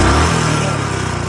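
A Royal Enfield Classic 350 motorcycle engine running close by, a loud low thumping beat with a quick steady rhythm that holds through a brief burst.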